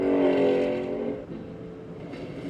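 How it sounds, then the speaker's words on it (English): A roaring car engine with a performance exhaust, loud and close at first with a strong rumbling tone, then easing into a lower, steadier drone as it fades back, with no voices. "The engines roar"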